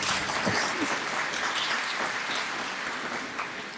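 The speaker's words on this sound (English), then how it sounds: "you can clap if you want" A university audience in Ghana claps for President Mahama, a fairly faint, steady wash of many hands from a distance that slowly tapers, with no speech over it.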